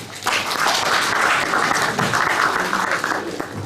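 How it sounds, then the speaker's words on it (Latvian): Audience applause fills a lecture hall during a seminar on drywall seam taping, a loud, steady wash of clapping that lasts several seconds without talk. "Aplausi."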